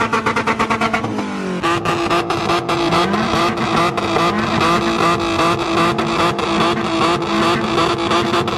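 Race car engines rev hard at a car meet in Łódź, a loud, continuous roar with rising and falling pitch and repeated sharp throttle blips and pops, close by and filling the whole stretch.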